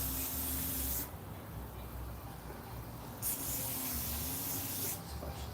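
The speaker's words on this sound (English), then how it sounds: "I'm just spraying that down a little bit right now." Scooter parts are sprayed down in three bursts: a steady hiss for about a second, a short puff, and then a longer spray, each stopping abruptly, close by over a low background hum.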